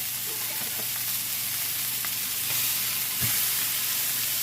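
Steak tips searing in a hot cast iron pan after being flipped, a loud steady sizzle with small spatters and a brief clack of the utensil.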